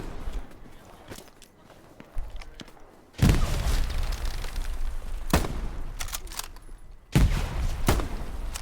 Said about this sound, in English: took out an OP just by throwing a fucking grenade